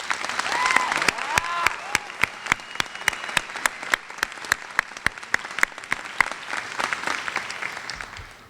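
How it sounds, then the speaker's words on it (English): A graduation audience at the Utica Academy for International Studies claps for teachers: sustained, dense applause with sharp individual claps standing out, loud and close, a few faint voices mixed in. "would you join me in a round of applause for your exemplary teachers?"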